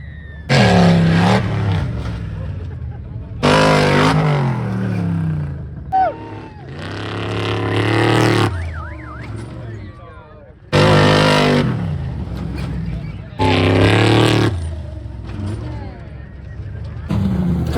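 Off-road vehicle engine revving hard as throttle is pushed on a homemade obstacle course, with repeated loud, surging bursts and quieter idling gaps between them, heard close and fairly continuous.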